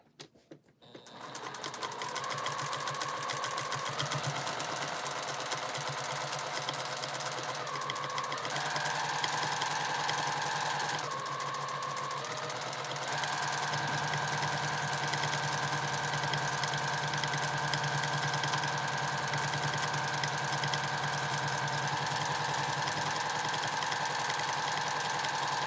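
Sewing machine stitching free motion quilting, a steady, continuous mechanical whir that runs nearly unbroken and shifts in pitch slightly as speed changes, close and loud, with no talk.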